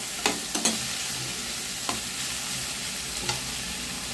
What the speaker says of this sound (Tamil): இப்போ இதை நல்லா வதங்கி வரட்டும் பார்க்கலாம்